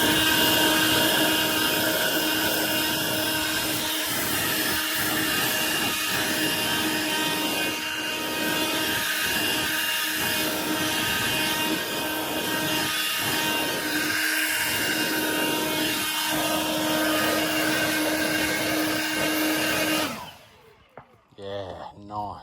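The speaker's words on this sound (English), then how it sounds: "let's blow it out, blow the leaves out and see what happens to the flow mate" A leaf blower clears leaves out of a rain gutter fitted with a gutter insert, its steady, loud, broadband roar running continuously before cutting off abruptly near the end.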